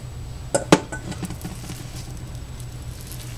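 A rubber spatula and fork knock and clink against a mixing bowl of low-carb flatbread batter, with two sharp close clinks early followed by faint scraping over a steady background hum.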